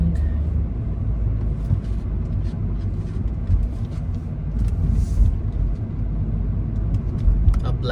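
Rush-hour road traffic in Riyadh rumbles steadily from inside a moving Changan Eado, a low continuous drone of engines and tyres with a few faint clicks and no clear speech.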